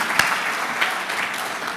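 Audience at a regional all-star gala applauding parents, a brief continuous wash of clapping from a crowd, steady and fairly loud.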